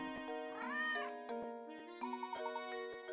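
A cat meows and hisses in the Professor Layton video game, the calls rising and falling as a short bright phrase over game music with a tinkling chime, the whole sound moderately quiet.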